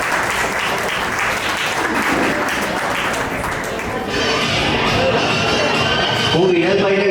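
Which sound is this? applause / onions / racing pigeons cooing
applause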